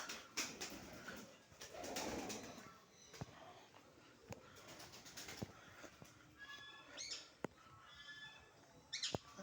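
Soft pigeon coos and wing flutters amid a quiet outdoor space at Kathgola Palace, Murshidabad, with scattered clicks and taps; faint and intermittent.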